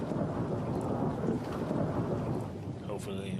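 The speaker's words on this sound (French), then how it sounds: "Tandis que le temps tourne à l'orage" Thunder rolls through a storm over a lake, a steady dense rumble of rain and thunder heard alone, loud and continuous throughout.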